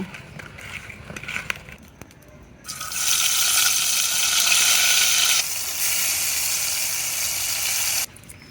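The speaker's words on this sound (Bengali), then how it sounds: "এবার বেগুনগুলো ভাজি করে নেব" Eggplant slices hit hot oil in a village kitchen, bursting into a loud, steady hiss that holds for several seconds, dips briefly, then cuts off abruptly near the end.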